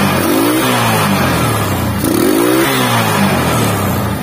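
Loud, continuous engine drone of a Honda Megapro motorcycle held at high throttle, with the pitch rising and falling in two broad surges.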